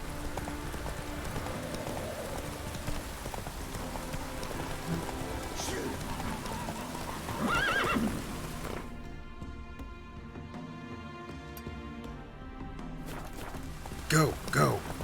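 Horse hooves clip-clopping at a steady gallop in The Witcher 3 video game, with rain pattering and someone talking over it; the hoofbeats drop out briefly midway, then return.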